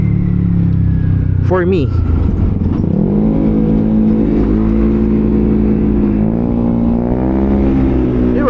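An engine with an open exhaust revs up to high RPM in rising and falling sweeps, loud and close, with people talking over it.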